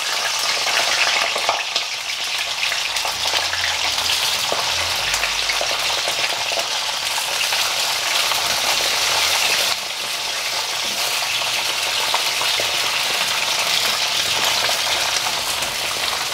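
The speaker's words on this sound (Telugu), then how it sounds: "ఇట్లా సిమ్లో వేయించుకోండి" Brinjal frying on a low flame in a pan, a continuous loud, close sizzle with occasional stirring scrapes, steady throughout with no talking.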